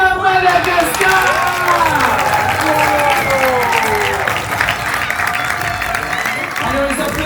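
A crowd applauds and cheers for second-prize winners at an international challenge award ceremony, with whoops and music, and a voice talking over the clapping.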